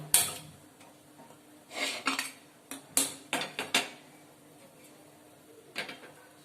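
A metal griddle clanks onto a gas stove for roasting bhakri flatbread, with several scattered clatters and scrapes of cookware between quiet pauses.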